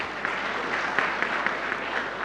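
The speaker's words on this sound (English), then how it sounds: "Applause to him." Moderate applause rises from an audience at a sports injury centre launch event honouring a cricket captain, a soft, steady patter of clapping lasting a couple of seconds with occasional sharper claps.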